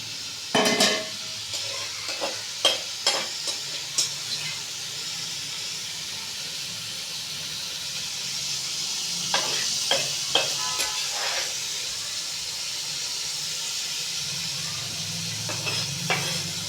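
Tomatoes frying in a pan as crushed green chili and garlic paste go in, a steady hiss and sizzle with intermittent scraping stirs and clinks of a utensil.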